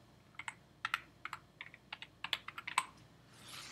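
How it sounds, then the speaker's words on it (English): Typing on a Mac computer keyboard: a quick, irregular run of crisp, close key clicks, fairly quiet, with a soft rustle at the end. "When I start typing"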